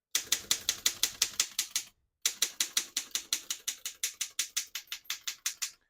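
A 1919 Underwood No.5 antique desktop typewriter typing, crisp evenly spaced key strikes in a fast steady rhythm, close and clear, with one brief pause partway through before the keystrokes resume.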